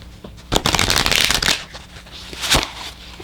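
Oracle cards are shuffled by hand in a quick riffle lasting about a second, followed by a shorter second burst of card flicking, crisp and close.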